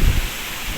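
Powerful typhoon wind roaring through trees littered with broken, fallen branches, a loud rushing gust with a heavy low rumble at the start, then a steady whooshing wash.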